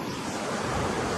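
Ocean surf washes steadily onto the shore where a boat is launched, a continuous broad rush of breaking waves with no voices.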